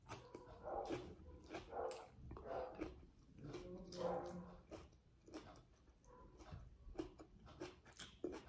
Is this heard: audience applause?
no